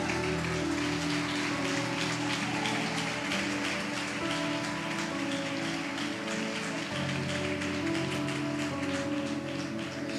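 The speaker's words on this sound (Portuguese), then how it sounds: "Bate palmas para Jesus." Church congregation clapping together for Jesus during a sermon, a dense continuous patter of many hands with music or organ tones underneath, steady and fairly loud throughout.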